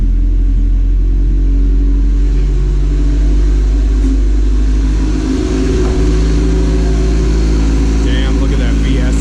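Turbocharged B20V-swapped Honda Civic with a VS Racing turbo pulling hard on the highway, a loud, steady engine and road rumble filling the cabin throughout, with a brief surge of revs midway.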